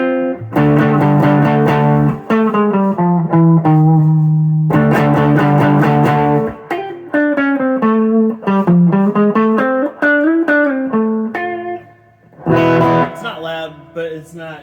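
A 1993 Gibson Les Paul Studio electric guitar through an original 1985 ProCo Rat whiteface distortion pedal into a Peavey amp, playing sustained distorted chords and melodic bends at moderate room volume, with brief gaps between phrases.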